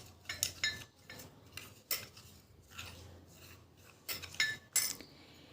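A spoon stirring a face pack of coffee powder and lemon juice in a small bowl, making repeated close, bright scraping clinks in uneven bursts with brief quiet gaps between.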